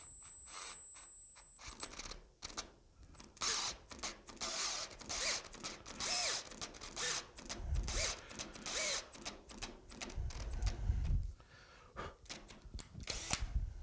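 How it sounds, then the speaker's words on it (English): A power drill bores into a broken bleeder screw in short grinding bursts with pauses between, close and fairly quiet, with scraping and handling noises around the drilling. "So let's go ahead and drill a hole."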